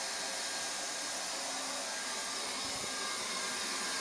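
A heat gun blows hot air onto a PVC pressure pipe fitting to unweld it, a loud, steady, even hiss of air lasting a few seconds with no talking.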